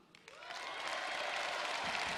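Crowd applause at Valérie Pécresse's first big political rally, a brief wash of clapping that swells from quiet to a steady full roar within two seconds.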